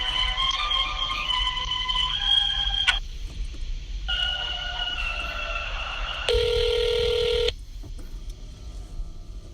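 Telephone call to a police department being transferred, with a series of electronic dialing tones and beeps that change pitch, then a loud steady tone and a quieter stretch on the line.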